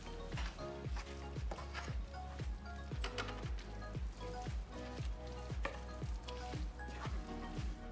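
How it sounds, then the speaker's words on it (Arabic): Vermicelli being stirred in a hot pan gives a steady sizzle and frying crackle under rhythmic background music. "صافي غنخلط مزيان"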